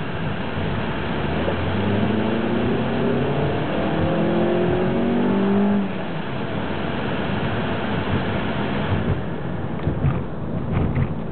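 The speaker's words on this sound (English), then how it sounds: "When the vehicle straightens out, we're going to punch the gas all the way." A Scion car accelerates at full throttle uphill, heard from inside the cabin with the air conditioning running: the engine drones loudly and climbs steadily in pitch through the gears, then settles to a steadier hum.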